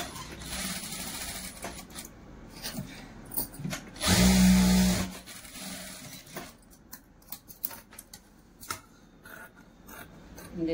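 Sewing machine stitching a puff sleeve for a blouse, one loud burst of motor whir lasting about a second amid quieter handling rustles and clicks, with no talking.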